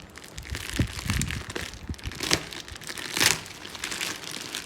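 A parcel from Tunisia holding an Outer Space Society Dripbox is unboxed, its packaging crinkling and crackling up close in irregular bursts of tearing and crumpling, with no voices.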